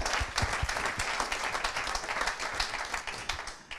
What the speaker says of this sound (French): Quel talent, on peut l'applaudir.